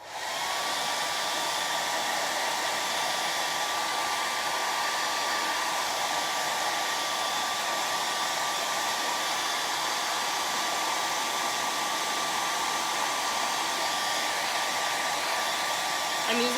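A hair dryer on its cool setting runs with a steady, continuous whoosh for over fifteen seconds, close by and without talk.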